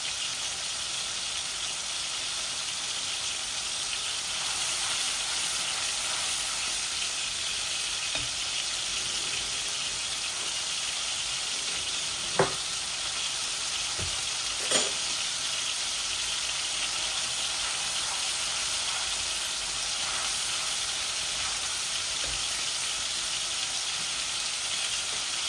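Ayre fish frying in oil in a pan: a continuous, even hiss and sizzle lasts the whole time, with an occasional sharp pop or spatter and no talking.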